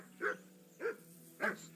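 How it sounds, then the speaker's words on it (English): A dog in Kingdom Come: Deliverance II barks three times at an even pace, each bark short and moderately distant, over a faint steady background hum. "Whistle at that mutt of yours to stop barking."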